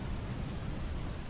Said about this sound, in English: The rain kept falling. The thunder rolled.